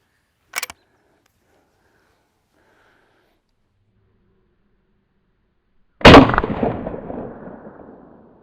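A .22 LR pistol fires a single loud shot through drywall, ringing out with a long decaying echo after a short click and a few seconds of silence.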